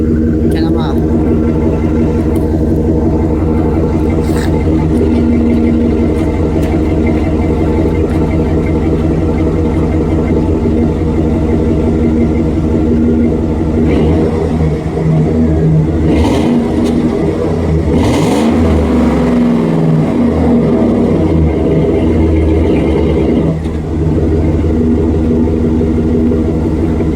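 A Chevy Express van's exhaust rumbles loud and close, holding a steady idle before several revs swell and fall back, with people talking over the engine throughout.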